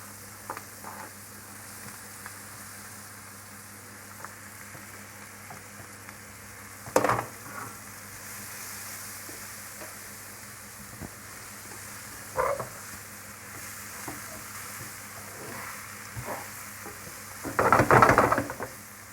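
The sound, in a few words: button mushrooms frying in a pan with onions and oil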